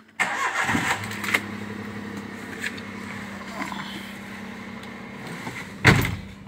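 A car engine cranks and catches, then settles into a steady mid-pitched idle heard from inside the vehicle, with a door-like thump near the end; no one speaks.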